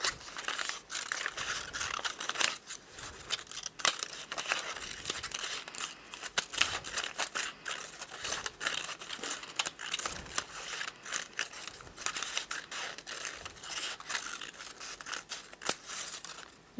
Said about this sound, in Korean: 이걸 이용해서 우리가 3등분해서 한번 잘라볼게요